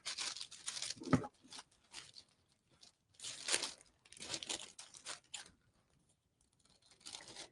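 Scissors snip through a paper napkin for a Christmas decoupage lantern, giving faint, crisp cutting and crinkling sounds in short bursts with quiet pauses between them.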